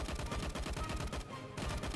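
Rapid gunfire from a player shooting in the LifeAfter video game, a dense burst of automatic shots that briefly pauses and then resumes.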